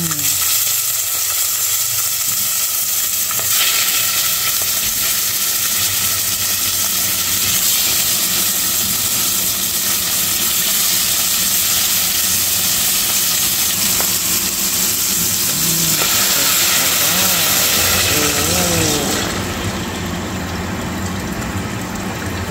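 Okra fries in a pan for a home-cooked meal with a loud, continuous close sizzle and crackle that holds steady for over twenty seconds, easing slightly toward the end.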